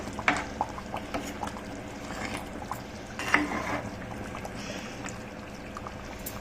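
A spoon stirs fish curry in a pot after coriander powder goes in, giving soft, intermittent scraping and gentle liquid sloshing with a few sharper clinks, fairly quiet overall.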